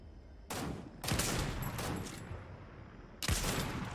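Gunfire in Fortnite sounds as several close, loud bursts of rapid shots, with a burst starting, a longer rattling stretch, then a pause before another sharp volley.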